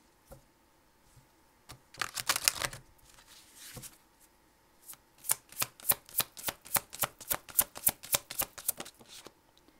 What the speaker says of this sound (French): je vais vous tirer une carte des déesses africaines pour votre conseil